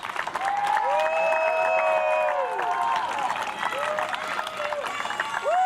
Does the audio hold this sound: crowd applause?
yes